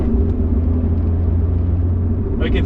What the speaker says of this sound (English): You can feel the engine vibrating right behind you.